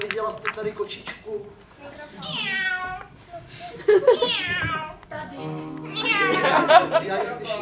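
A person imitates a cat, voicing several drawn-out, wavering meows separated by short pauses, close and fairly loud.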